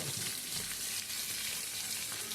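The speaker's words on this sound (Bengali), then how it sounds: "নুন হলুদ দিয়ে খুব ভালো করে ভেন্ডি আলু সয়াবিনটা ভাজা করব" Okra, potato and soybean chunks fry in a pan with salt and turmeric. A steady close sizzle hisses on without a break and no one speaks.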